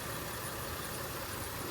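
A 3.5-liter V6 car engine idles quietly and evenly, a faint, steady hum with no other sounds.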